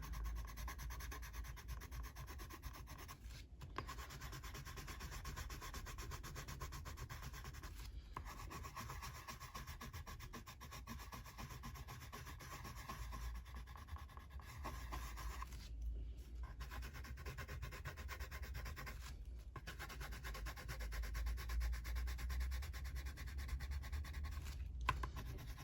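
Coloured pencil rubs steadily across paper during colouring and burnishing, a soft continuous scratchy hiss with brief pauses between strokes, close and quiet, no talk.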